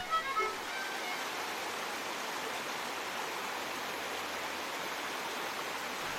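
A mountain stream flows in a steady, broad rush of water, constant and moderately loud, with no voices over it.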